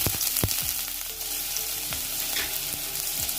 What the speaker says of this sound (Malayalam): നെയ്യൊന്ന് ചൂടായി കഴിഞ്ഞതിലേക്ക് ചെറിയുള്ളി അരിഞ്ഞത് 1 ടേബിൾ സ്പൂൺ ചേർത്ത് കൊടുക്കാം.